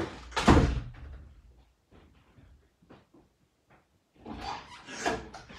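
A door opens and closes with a couple of heavy bumps and rattles at the start and a longer clatter near the end, with quiet shuffling between.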